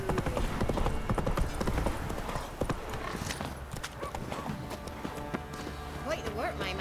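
Roach, a horse in The Witcher 3, gallops with steady, rapid clip-clop hoofbeats up close, mixed with game music and ambient sound; a voice is heard as well.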